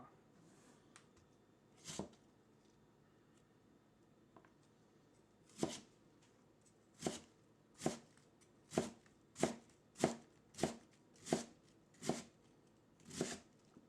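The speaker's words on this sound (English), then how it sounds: "we're going to cut strips out of the cabbage, like so" A knife chops cabbage into strips on a cutting board, a few isolated cuts giving way to a steady run of close, crisp strokes, with no talking.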